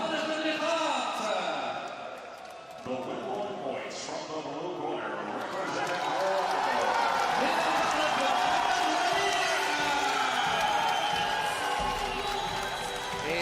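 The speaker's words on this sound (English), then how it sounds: "It's the Moroccan fans who are cheering." Moroccan fans cheer and shout at a professional boxing match between Mohammed Rabii and Liu Wei, a dense arena crowd roar swelling and holding loud, with a commentator talking over it.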